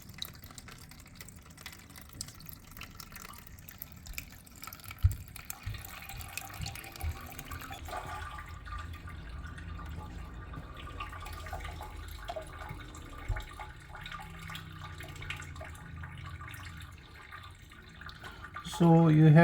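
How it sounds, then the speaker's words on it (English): Surplus water trickles and drips steadily out of a blocked Samsung washing machine drain, faint and close, with occasional talk around it. "So any surplus water will come out if it is not drained properly because of the blockage."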